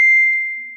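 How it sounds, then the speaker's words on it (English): A single bright phone notification ding, clear and close, ringing out and fading over under a second in a welding shop. "ding, that's my phone"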